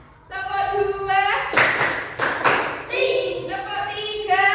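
Classroom clapping by children at an elementary school, a loud burst of claps in two quick rounds rising out of a teacher and children's chanting, with voices continuing before and after.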